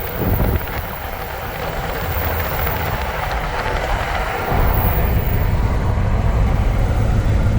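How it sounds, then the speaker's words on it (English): Freight train locomotives rush past a towing vehicle along the Columbia River, a loud broadband roar with heavy wind noise that shifts in tone midway, with no talk. "And there went the locomotives."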